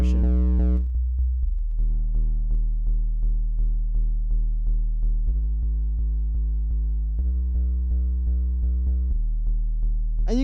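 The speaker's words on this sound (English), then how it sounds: "I'm going to actually add a fruity fast distortion" A synth bass in FL Studio runs through the Fruity Fast Distortion effect, playing a sequence of sustained, buzzy harmonic notes that step between pitches, loud and alone with no voice.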